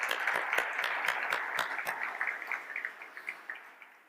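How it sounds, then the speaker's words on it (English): A civic-event audience claps in a short round of applause, a scatter of individual hand claps heard at a distance and fairly faint, tapering off toward the end. "So let's give him a round of applause even though he's not here."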